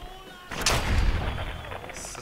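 A single loud gunshot rings out in the video game Fallout 4, followed by a rumbling decay and lingering echo.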